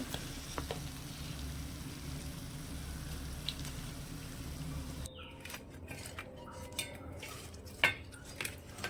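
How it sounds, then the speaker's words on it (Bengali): Raw potato pieces fry in hot oil with a steady sizzle for about five seconds, then the sizzle drops away as metal utensils clink and scrape while the pieces are lifted out. "একটু লালচে করে ভাজা হয়ে গেছে মোটামুটি পাঁচ মিনিটের মতন সময় লাগবে এগুলো ভাজতে"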